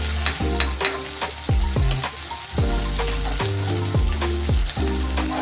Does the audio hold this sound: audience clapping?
no